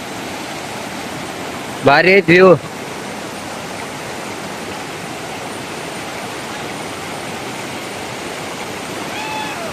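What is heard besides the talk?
river water flowing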